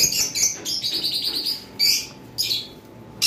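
Shrill, repeated chirps from small conure parrots, close and fairly loud, coming in quick bursts over a constant background hiss.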